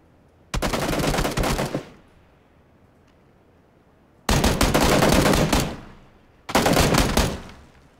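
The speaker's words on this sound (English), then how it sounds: "He's shooting at the guy behind you." Bursts of automatic gunfire in a video game: three loud, close rapid-fire volleys, the first and last roughly a second long and the middle one longer, separated by near silence.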